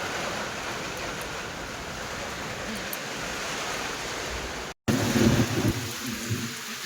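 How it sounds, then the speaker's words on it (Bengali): A violent Kalbaishakhi thunderstorm lashes down with heavy rain roaring steadily, a brief dropout near the end followed by louder rumbling thunder and rain. "প্রচন্ড ঝড় উঠেছে প্রচন্ড"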